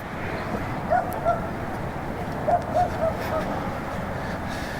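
Several dogs at a dog park in a KOA campground in West Yellowstone, Montana bark a few times at a distance, short sharp yaps in two small clusters over a steady wash of outdoor background noise.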